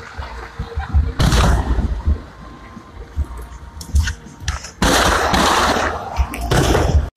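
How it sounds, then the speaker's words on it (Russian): Gunfire exchange during a Russian security forces special operation, with bursts of shots crackling and popping in loud dense clusters, broken by quieter gaps and rough outdoor background noise. "На этом видео отчетливо слышны звуки перестрелки, после чего силовик кинул гранату в газель"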